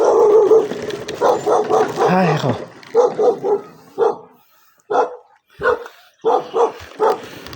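A dog barks repeatedly nearby in short loud bursts, with a few yips between, while a person talks over the start; the scene is roadside during a stop after running out of fuel.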